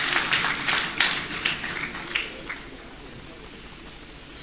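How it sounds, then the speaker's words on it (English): An audience claps at a graduation ceremony for an intelligence management course. The applause is a dense wash that peaks early and then thins to scattered claps, with a voice faintly present. "Please, another round of applause for Commandant Officer."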